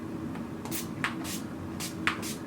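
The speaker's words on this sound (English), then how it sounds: "So I'm going to go ahead and spray that." Several quick, soft spritzes from a makeup setting spray bottle, some in rapid pairs, close by over a low background hum.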